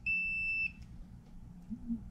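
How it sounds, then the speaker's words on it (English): Single clean electronic beep from an electric go-kart's BLDC motor controller powering up via the key switch, a short steady tone lasting just over half a second, followed by quiet room background. "when that thing turns on and you get that beep, that means the system is powered up"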